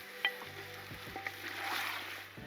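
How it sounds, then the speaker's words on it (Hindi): Desi chicken stirred in a karahi for frying makes a soft sizzle with a few scraping knocks of a utensil, fairly quiet and close, with no one talking. "इसको अच्छे तरीके से हम हिला लेंगे और इसको थोड़ा सा फ्राई करेंगे"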